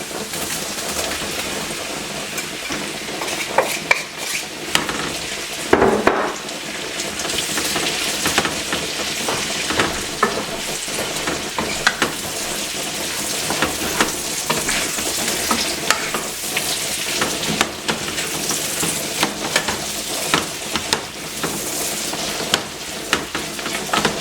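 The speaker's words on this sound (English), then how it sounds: "Now we're going to add our shrimp." Shrimp added to a hot pan with garlic fry with a steady, close crackling sizzle and scattered pops throughout, with no talking.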